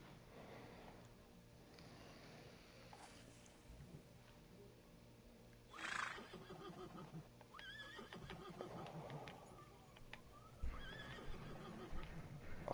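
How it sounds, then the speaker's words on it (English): A horse in the Fishing Planet fishing game neighs and whinnies several times at moderate distance, with clip-clop hooves and steady outdoor ambience underneath during a topwater kayak tournament. "If I didn't have to listen to that horse over here."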